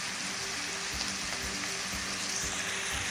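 Food sizzles steadily in a hot pan, a dense continuous frying hiss with small pops, close and fairly loud, with no one speaking.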